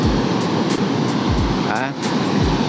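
Sea waves at Dinahican Beach in Infanta, Quezon: a loud, continuous roar of surf with repeated low rushes as waves break close by, while someone talks over the noise.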